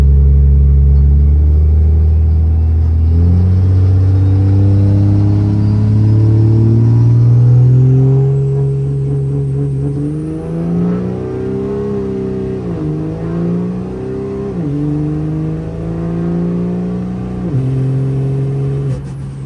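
A third-generation 5.9 Cummins diesel truck performs a four-wheel launch, its loud, deep engine roar building steadily and then surging through several shifts as it pulls hard, with no talking.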